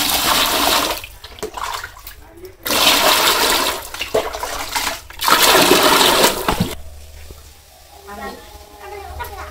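Water poured from a container into a bucket to hold live fish in a village kitchen, loud splashing and gushing in several bursts with brief pauses, then quieter trickling at the end.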